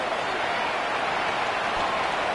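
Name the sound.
rain falling during a football game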